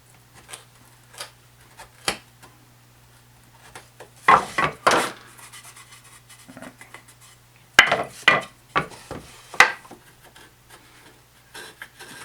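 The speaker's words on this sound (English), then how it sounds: "I can get in with that chisel and start to true this up." A wood chisel pares a tenon to fit, giving a series of sharp, close scraping and cutting strokes in irregular bursts over a quiet steady hum, with pauses between groups of cuts.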